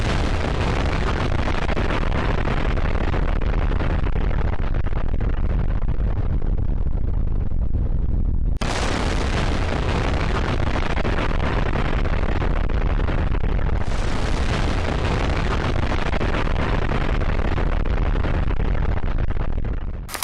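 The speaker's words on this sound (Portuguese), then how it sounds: "No dia 20 de abril de 1951, a bomba Easy foi detonada na zona de testes do Pacífico" The Easy nuclear bomb test detonation in the Pacific test zone in 1951, a loud continuous roaring blast rumble that fills the whole stretch, broken by two abrupt cuts, with no voices.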